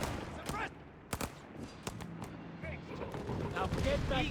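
Artillery blasts and bursts of gunfire crack in a Company of Heroes 3 match, a string of sharp, fairly faint impacts under a commentator's steady talk.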